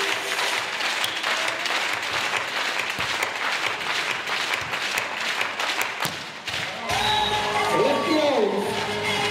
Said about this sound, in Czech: A my stále tleskáme.